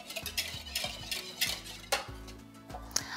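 Waffle batter with milk stirred in a bowl, a quick rhythmic clatter and scrape of utensil against the bowl, close and fairly quiet, with no talk.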